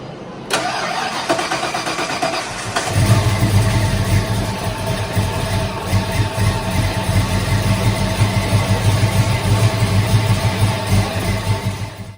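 A Ford Mustang Foxbody engine cranks with a short whir, catches about three seconds in, and settles into a loud, steady, slightly uneven idle close by.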